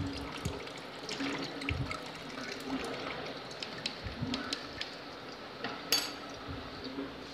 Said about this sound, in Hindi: एक जग में हम छन्नी रख लेंगे और इसे हम छान लेंगे।